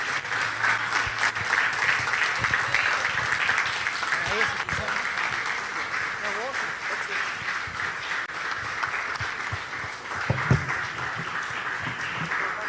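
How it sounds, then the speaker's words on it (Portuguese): A church congregation applauds to the Lord at a special Thursday service, sustained clapping running the full length under and between speech, with a few sharper knocks near the end. "E eu queria que você pudesse aplaudir ao Senhor Jesus Cristo,"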